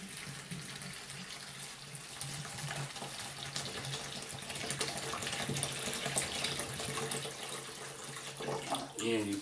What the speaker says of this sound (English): A gallon plastic bag, some water, and you're going to pour the water into the plastic bag.